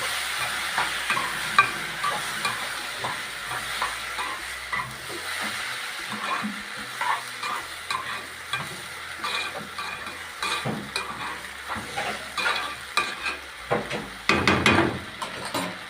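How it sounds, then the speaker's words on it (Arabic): Soaked rice is stirred as it fries in a pan, with a soft steady sizzle under repeated scraping and shuffling strokes that grow busier and louder toward the end. "افضي بقيه الرز، كميه الرز اللي هي المبلول. وهقلبه كويس قوي"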